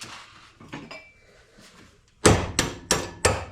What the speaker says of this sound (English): Now, in theory, I should take a hammer and beat that bolt down.